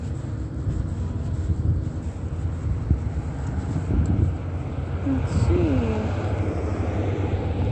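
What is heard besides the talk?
helicopter flying overhead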